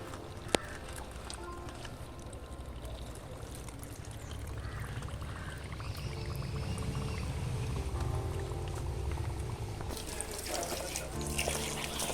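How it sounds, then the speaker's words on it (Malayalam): Water pours and trickles steadily into a pot while repotting a lotus plant, over a low rumbling background, the flow growing fuller and louder toward the end. "നമുക്ക് ഇങ്ങനെ വെള്ളം ഒഴിച്ചു"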